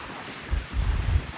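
Strong, cold Northeast Atlantic ocean wind gusts of around 60 mph buffet the microphone, with low rumbling surges that swell in two bursts over a steady roar.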